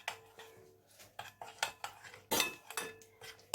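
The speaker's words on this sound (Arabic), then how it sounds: "هنقلب بقى المكونات بتاعتنا كلها بالشكل ده كده مع بعضها" A utensil stirring chicken shish tawook marinade with yogurt in a bowl, giving a rhythmic series of wet squelches and clinks against the bowl, close and moderately loud, about a dozen strokes, with no talking.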